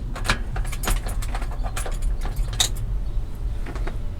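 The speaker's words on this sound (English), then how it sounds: "Then take the keys from one of the convenient compartments inside" Keys jangling as they are taken from a compartment inside a 1953 Ford F250 truck, a steady close metallic rattle with bright repeated clinks throughout.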